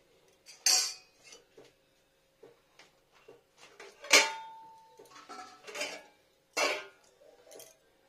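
A utensil mixes protein cake batter with baking powder in a bowl, giving sparse, close clinks and scrapes against the bowl in irregular bursts separated by quiet gaps, with a few sharper knocks.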